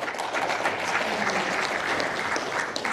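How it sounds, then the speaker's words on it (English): Audience applause at a student debate on nationalism versus globalism, steady dense clapping from a large crowd filling the whole stretch at an even level, no voices over it. "We'll save the clapping to the end"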